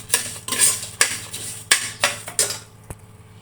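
Roasted moong dal being stirred and fried in a pan, with a rhythmic series of loud spatula scrapes and clinks against the metal pan over a faint background hum.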